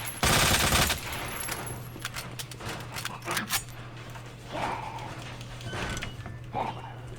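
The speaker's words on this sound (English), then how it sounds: "we'll just keep shooting this guy till he's down" Gunshots ring out in the Resident Evil 2 Remake video game as a figure in the Raccoon Police Department is shot repeatedly. One loud blast opens, followed by several sharper, fainter shots over a steady hum, with a person talking.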